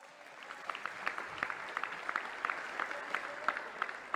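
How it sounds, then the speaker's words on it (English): Workers at an Illinois state workplace clapping, fairly faint and a little distant, with distinct individual claps popping out of a steady patter from a modest group. "The people clapping are the ones who work there."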